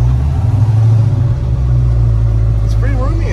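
A 1970 Chevrolet El Camino with a 396 big block, aluminum heads, cam and Holley injection drones loud and low while driving, a steady deep engine rumble with a voice speaking briefly near the end.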